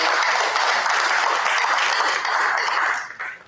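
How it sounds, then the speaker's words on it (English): A board of education meeting audience applauds together, a dense steady round of clapping that carries on for about three seconds before tapering off abruptly at the end. "Please give them a round of applause"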